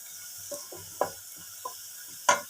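Chopped onions sizzle in a pan on a home stove, with a soft steady hiss broken by several sharp stirring clinks and scrapes at close range.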